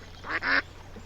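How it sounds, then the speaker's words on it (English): A family of ducks swimming by, giving two short, close quacks in quick succession, the second longer and louder, then quiet. "he noticed a family of ducks swimming by"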